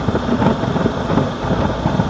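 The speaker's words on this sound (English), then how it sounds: "I am riding the bike." A 2019 Honda CB500X motorcycle ridden through town on an ordinary day, heard as a steady, dense rumble mixed with wind roar that stays constant and fairly loud throughout, with no one speaking.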